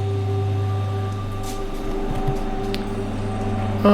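Electric motors spinning prayer wheels at a Tibetan Buddhist monastery in Scotland give a continuous low mechanical hum, steady and droning throughout, with faint rattles and clicks on top.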